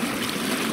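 Water rushing through a break in a beaver dam on a trapline, a steady broadband gush of flowing water, close and continuous, with no voices.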